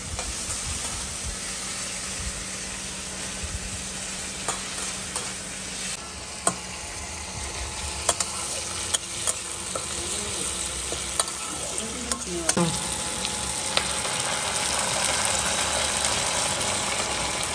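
Onions and tomato sizzle steadily while being sautéed in a pan, a continuous frying hiss broken by occasional sharp clinks and scrapes of stirring, with no talk.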